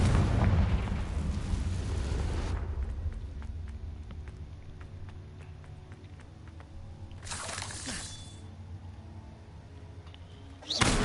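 Confringo fire spell going off in Hogwarts Legacy: a loud, broad blast right at the start that rumbles and fades over a couple of seconds, with a second burst later and a sharp hit at the very end.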